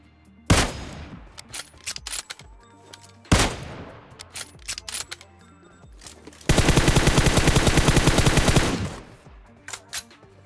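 Kar98 rifle fire in a battle royale game: two sharp, loud single shots with ringing tails, then a sustained rapid automatic burst, followed by scattered lighter shots.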